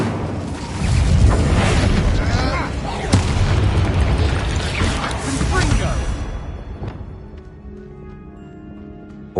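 A fire spell cast in Hogwarts Legacy erupts in loud booming bursts, one sharp blast followed by rolling whooshes and crackle over continuous game music and effects, fading toward the end.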